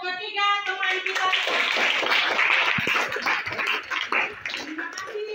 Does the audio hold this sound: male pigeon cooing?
no